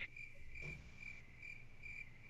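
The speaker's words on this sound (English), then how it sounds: "I like the crickets" Cricket chirping sound effect played on a podcast: a steady, high insect trill that carries on without a break for a couple of seconds, faint, with no one talking over it.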